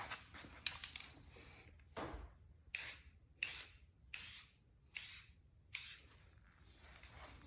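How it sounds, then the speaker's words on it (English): Spray paint hisses out in a series of short, evenly spaced bursts, each about half a second long, test-sprayed onto newspaper while recoating a Nerf Fortnite blaster for hydro dipping. The bursts sound close and clear, with light handling noise between them and no talk. "you're gonna test spray on the newspaper first to see how far away we're gonna spray"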